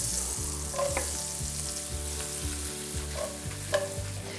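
Shallots frying in a hot pan, a continuous close sizzle and crackle with faint stirring and utensil clinks over a steady background hum, no voices.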